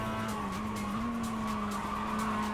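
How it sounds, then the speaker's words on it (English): Race car in the iRacing video game braking hard before a big bridge, tires skidding and squealing in a steady sustained screech over the engine drone, loud and close throughout. "Braking just before this big bridge."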